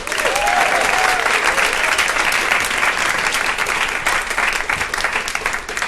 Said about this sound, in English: let's give a big round of applause to start it out for Echoing Green